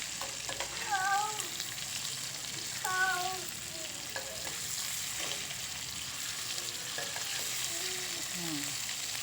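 Bitter gourd pieces frying uncovered in oil in a pan, giving a steady, moderate sizzle throughout with occasional brief clinks as they are turned.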